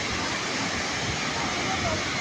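Khamush Waterfall in northern Pakistan, water plunging from a great height, a dense continuous roar filling the whole moment without a break.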